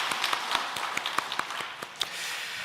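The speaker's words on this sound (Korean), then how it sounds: "서로 격려의 박수 한번 보내드릴까요?" A church congregation at a Sunday worship service claps briefly, with scattered, uneven hand claps close by over a quiet room.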